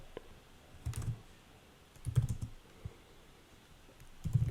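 Mouse clicks at a computer while designing in Canva, a few soft muffled clicks in small clusters with faint desk knocks, close and quiet.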